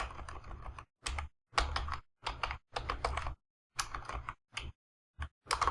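Computer keyboard clattering as code is typed, quick clusters of close key clicks in short bursts separated by brief silent pauses, with no talk.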